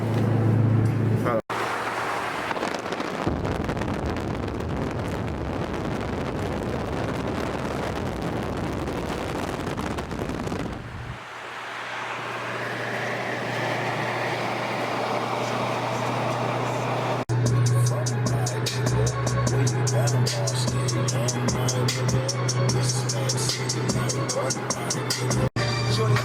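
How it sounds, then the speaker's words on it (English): Strong wind buffets an outdoor microphone in heavy, uneven gusts throughout, with a steady low hum running underneath and a brief lull partway through. "it's fucking windy as hell up here"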